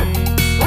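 Dog bark sound effect from a song, a short burst of barking woven into loud music with no talk over it.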